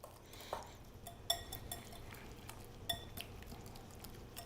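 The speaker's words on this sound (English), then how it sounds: "We're gonna whisk this around really nicely," A monkfish caviar mixture is whisked in a bowl, giving soft, faint clinks and scrapes of utensil against the bowl at an irregular pace.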